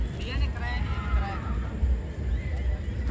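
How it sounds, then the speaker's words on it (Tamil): A horse neighs near a stable at a large temple festival, whinnying calls rising and falling close by over a low rumbling background, with people talking nearby. "இப்போ ஒரு குதிரை இல்லை, பல குதிரை இருக்கு."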